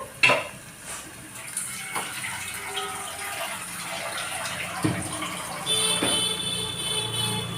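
Onions and tomatoes sauté in a pan for roadside parotta salna, with a faint sizzle under scattered metallic clinks and scrapes of a spoon against the pan, close by and quiet, with no talking.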